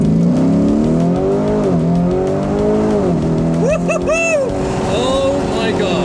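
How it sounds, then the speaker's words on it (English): Sports car at the LA Auto Show area track launching hard under launch control, engine revving and rising in pitch through gear changes with a brief tire squeal, loud and close throughout. "All right, let's see if we can do launch control."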